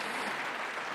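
A crowd claps steadily through a brief moment at a professional squash match at the British Open, the applause dense and even, with no voices over it.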